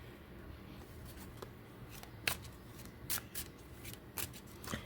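A deck of tarot cards is shuffled by hand in a series of soft, brisk riffles and taps, close and fairly quiet, with no talking.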